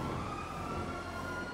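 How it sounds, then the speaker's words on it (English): A faint, steady wailing police siren in GTA 5 hums continuously under a low background drone, sounding distant and unchanging throughout. "I also hear sirens"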